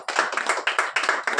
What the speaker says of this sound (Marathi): त्यांनी बटन हे केलं की सर्वांनी टाळ्या वाजवायच्या